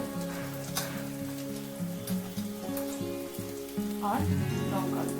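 Turmeric, coriander and cumin powders sizzle in a hot pan for a moong dal with fish head, giving a continuous crackling hiss under soft tonal background music that swells near the end.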